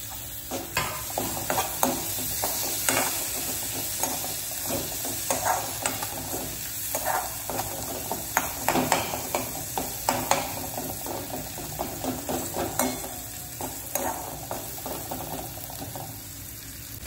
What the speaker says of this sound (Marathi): टोमॅटो छान फ्राय होऊन द्यायचा।